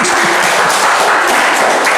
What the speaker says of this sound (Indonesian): Oh, tepuk tangan ini, tepuk tangan